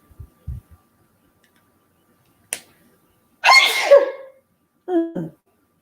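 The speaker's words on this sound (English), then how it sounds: "I'm gonna sneeze." A woman gives a single sharp sneeze, preceded by a few small clicks and a short breath, then follows it with a brief vocal sound in a quiet room.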